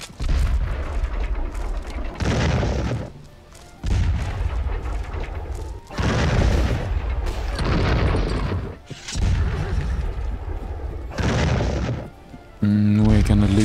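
Repeated heavy booms of cannon fire in a Civil War strategy video game, several blasts in a row separated by short pauses, loud and close with rumbling tails.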